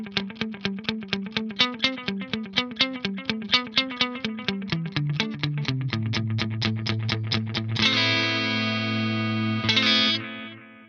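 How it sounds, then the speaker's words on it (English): Clean electric guitar through an Axe-Fx III preset with analog-style delay in front of the amp, picked as a quick run of even single notes, then a sustained chord whose echoes trail and fade, played alone. "So that is what that delay is doing for the straight up clean sound on scene 1."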